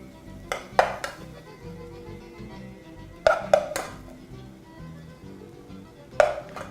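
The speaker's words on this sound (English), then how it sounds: "I'm just going to move those onto my plate" Lightly sauteed zucchini and white onion are scraped from a pan onto a plate in a kitchen: three clusters of sharp metallic clinks and taps, spaced a few seconds apart over faint background noise.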